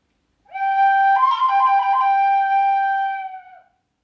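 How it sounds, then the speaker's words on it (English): A Guinness-brand black Irish whistle plays a single sustained, clear note with slight wavering in the middle, loud and close, lasting about three seconds alone. "Irish black whistle."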